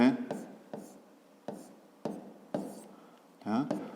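Pen or pencil writing on paper in a run of short, scratchy strokes, about seven separate bursts, close and fairly loud, with brief voice fragments between them.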